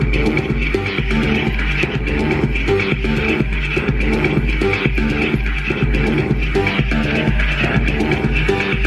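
An electronic music track built on a steady, pounding kick drum and a deep, throbbing bass line, looping evenly and loudly throughout with no voices.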